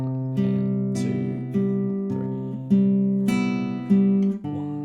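Fingerpicked acoustic guitar playing the verse of a song, sustained chord tones with picked note attacks about every second, close and clear, played alone.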